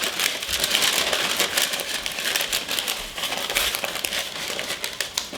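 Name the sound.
parchment paper crinkling while lining a cake pan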